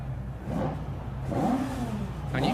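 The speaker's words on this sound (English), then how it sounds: "you can hear there the difference in the engine note" Two-wheel-drive rallycross cars at a World Rallycross round in Montalegre rev hard above 10,000 RPM, their high, rising engine notes sweeping up in bursts over a steady loud background rumble with no talk.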